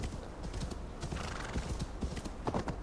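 Horse hooves clip-clop at a gallop with a loud whinny near the end, from a horse ridden through deep snow in the video game Assassin's Creed Valhalla; the hoofbeats are steady and close, with no talk over them.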